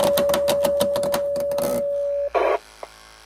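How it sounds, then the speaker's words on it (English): A HomeAlert3+ bed shaker for Motorola and Unication voice pagers runs with a steady electric buzz and faint rhythmic pulsing for about two seconds, then stops, followed by a couple of brief clicks or handling noises. "So the unit will vibrate for a preset amount of time, like it is now."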